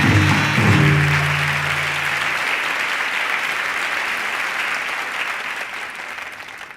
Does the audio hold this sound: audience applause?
yes